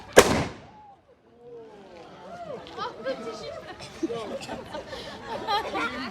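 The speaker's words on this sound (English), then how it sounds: "So that musket firing was pretty cool." A double band musket fires once with a sharp, loud near report. The blast is followed by a long stretch of crowd chatter and excited voices.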